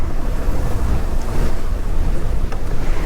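A strong headwind buffets the microphone while cycling along the EuroVelo 5 route through Alsatian farmland near Cernay, a loud continuous roaring rush with gusty swells, no voices.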